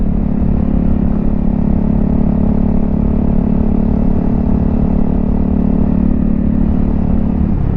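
A Honda CRF300L Rally motorcycle rides along a gravel road, its engine a loud, constant low drone with steady rumble and rattle throughout, no speech.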